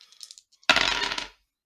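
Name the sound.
dice being rolled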